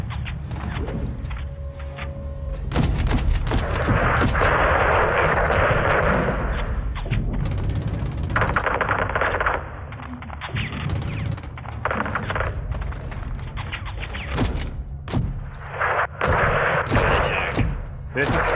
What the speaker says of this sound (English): Oh, it's a laser-guided missile.